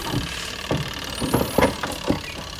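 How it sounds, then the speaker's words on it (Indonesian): A washing machine spin dryer motor runs with a steady mechanical whir and rattle, with periodic thumping knocks as the drum turns, close and fairly loud with no talk. "Oke pengering di sini sudah berputar"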